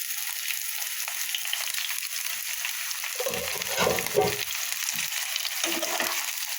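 Cauliflower and onion fry together in a pan with a constant hissing sizzle, broken by a few bumpy stirring scrapes partway through.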